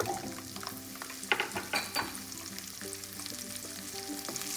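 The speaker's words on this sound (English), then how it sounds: "Let the garlic cloves cook on low flame nicely." Peeled garlic cloves fry gently in oil over a low flame for a garlic curry, giving a soft continuous sizzle with a few light stirring clinks from the pan, close and quiet.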